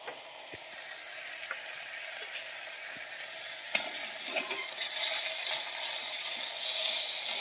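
Asafoetida and chillies sizzle in hot oil inside a pressure cooker, a steady close crackle and hiss that swells louder toward the end, with a few scraping stirring clicks.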